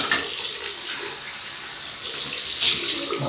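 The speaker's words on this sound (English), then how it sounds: "Cold water rinse." Cold tap water running for a rinse after a wet shave, a loud, close, continuous splashing stream that swells slightly near the end.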